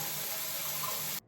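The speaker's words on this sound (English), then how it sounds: "And I'm just gonna add some water." Water pours steadily into a blender jar in a home kitchen, giving a close, even hiss and splash for about a second before it stops abruptly.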